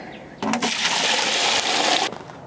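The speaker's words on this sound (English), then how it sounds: "5 liters of warm water to the second bucket" About 5 liters of warm water gush into a plastic bucket in one steady pour, nearby and fairly loud, starting and stopping abruptly within a couple of seconds.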